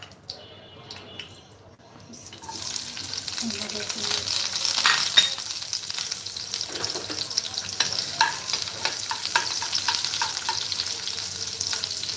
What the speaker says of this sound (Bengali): আমি একটু ঘি দিব আর একটু সাদা তেল দিয়ে সবজিটা রান্না করবো